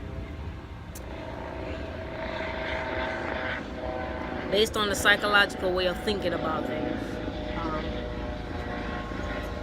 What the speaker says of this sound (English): the Broward Sheriff Chopper wants to go over my home at this very moment